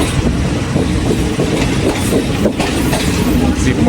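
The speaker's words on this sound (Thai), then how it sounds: "201 นะครับกรุงเทพพิษณุโลกกำลังเดินทางออกจากสถานีรถไฟ บางซื่อเก่านะฮะ" Ordinary train 201 from Bangkok to Phitsanulok pulls out of old Bang Sue station with a loud, constant rumble and rhythmic clickety-clack of wheels over rail joints, heard close from on board.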